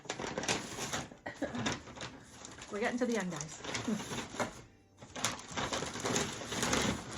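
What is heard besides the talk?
unwrapping taped wrapping paper from thrifted items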